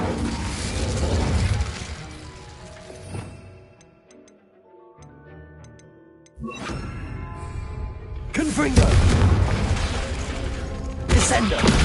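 An Incendio fire spell is cast in Hogwarts Legacy, heard as a loud fiery whoosh and burst amid the game's combat effects, followed by a quieter lull and then more heavy blasts, with a voice speaking.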